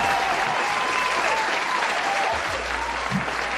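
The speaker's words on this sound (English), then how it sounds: "let me get that round of applause." A crowd breaks into a round of applause, loud, dense clapping that stays steady and close throughout, with a few cheers blended in.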